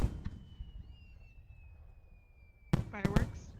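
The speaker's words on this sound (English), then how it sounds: "Fireworks? Yeah, you can hear them pop." Fireworks pop in the VRChat video game world, a faint high whistle gliding down before a cluster of sharp crackling bangs near the end, with a voice talking alongside.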